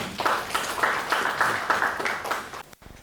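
Audience applause for a lecturer at a climate change forum, a steady ripple of clapping over a few seconds that cuts off abruptly near the end.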